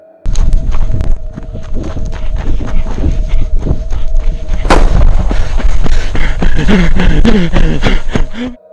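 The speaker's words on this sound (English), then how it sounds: "A gun goes off in the distance." Near the Area 51 gate, a single sharp gunshot cracks at a distance amid outdoor noise, with footsteps and rustling heard before and after it.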